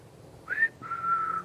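A person whistles outdoors on a walk: a short rising whistle, a brief pause, then a longer steady held note, fairly close and clear over quiet background.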